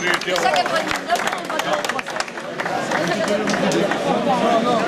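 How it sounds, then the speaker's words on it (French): A live event crowd in a hall applauds steadily and continuously, with a hubbub of voices and cheering mixed in at close range. "Allez, vous pouvez applaudir, bien sûr. Allez, allez, applaudissez."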